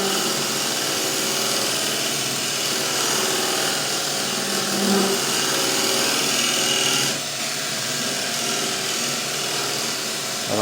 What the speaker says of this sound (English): I'm just going to refine that shape with a skew chisel,